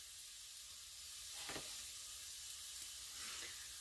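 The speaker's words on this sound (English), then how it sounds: "Do the eggs low and slow. Keep them moving in the pan." Scrambled eggs cooking low and slow in a pan: steady soft sizzle and hiss throughout, faint and even, with a few light scrapes of stirring.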